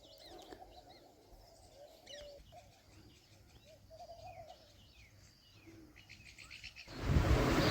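Peacocks call in the morning on a farm: repeated, moderately distant cries with other birds chirping around them, then a loud rush of noise at the very end. No one speaks.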